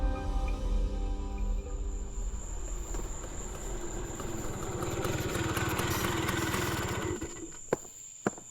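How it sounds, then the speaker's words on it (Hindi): A motor scooter engine runs with a low, steady rumble and rattle that gradually slows and fades as the scooter pulls up and stops, followed by a couple of sharp clicks. "तभी बाहर एक स्कूटर आकर रुका"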